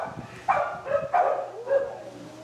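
A dog with food-guarding issues, fed in a crate during a training session, gives several close, short barks and yips in quick succession.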